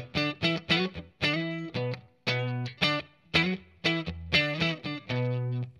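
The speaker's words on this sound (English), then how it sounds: "that's the clean tone, just the clean boost" Clean electric guitar through a clean boost pedal, no distortion, playing a series of strummed chords and short riffs, bright and ringing with a light edge, fairly loud with brief gaps between phrases.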